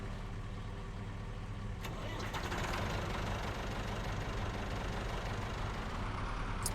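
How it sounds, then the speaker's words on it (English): A tractor engine in the farming video game Farming Simulator 25 runs with a steady, low, rumbling drone and a faint knocking edge, holding constant throughout with no talk. "We'll get the tractor back in there."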